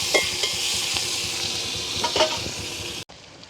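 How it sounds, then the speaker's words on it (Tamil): Onions and green chillies sauté in hot oil in a village kitchen pan, a close steady sizzle broken by a few scraping stirs before it cuts off. "வெங்காயம் பச்சை மிளகாய் வதங்கட்டுக்கு"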